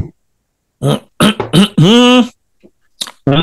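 Several loud, close coughs and throat-clearing bursts in quick succession, with brief pauses between them.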